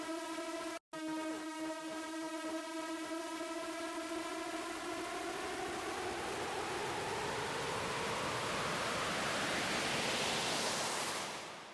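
A Zebra synth patch of saw wave layered with white noise, shaped with EQ and delays, makes a sustained harmonic drone under a broad, rising noise wash that swells brighter over about twelve seconds, with a brief dropout near the start.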